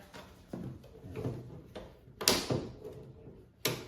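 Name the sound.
latches snapping shut on aluminum folding camping table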